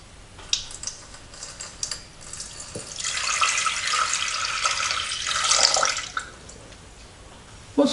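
Cooled sugar syrup of caster sugar dissolved in hot water is poured into a jar for homemade limoncello, giving a steady splashing, gurgling stream that builds for about three seconds, then stops, with light handling clinks before and after.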